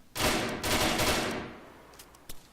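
Rapid automatic gunfire bursts in the military simulation game ArmA 3, a dense rattling volley followed by a decaying echo and a couple of isolated later shots.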